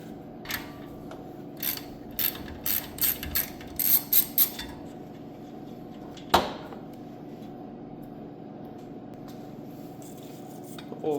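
A socket wrench ratchets on an air hose reel in a quick series of about eight clicking bursts, followed by a sharp metallic clank. The sounds are close over a quiet steady hum.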